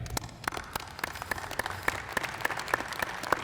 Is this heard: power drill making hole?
no